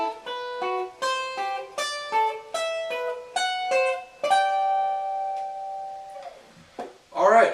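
Electric or acoustic guitar picking an exercise across harmonized major scale chords, alternating two strings on each chord in a steady rhythm, with a final chord left ringing out before a brief voice at the end.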